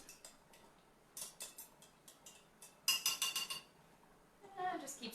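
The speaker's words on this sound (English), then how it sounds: "just keep switching back and forth and stirring, kind of helping it along" A spoon stirs small cubes of activated charcoal soap melting in a pot, making quiet, scattered clinks and light scrapes against the metal in short bursts.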